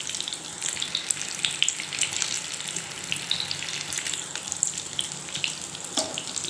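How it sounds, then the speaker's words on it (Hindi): Shami kebabs fry gently in a pan over low heat, giving a steady soft hiss with faint crackles and pops, continuous and moderately close with no talking. "इनको ऐसे ही हल्की आंच पे फ्राई होने देना है।"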